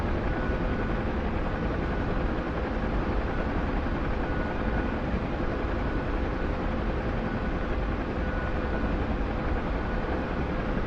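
A Chinook helicopter in a video game gives off a constant, dense mechanical drone that holds steady from start to finish, with no voices over it.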